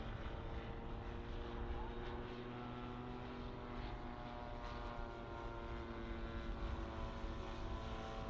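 A Stearman model biplane landing at the Popham model airshow, its steady engine drone continuous and fairly close, broad outdoor noise underneath.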